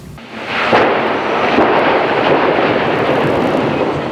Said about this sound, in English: a propane explosion rocked Kansas City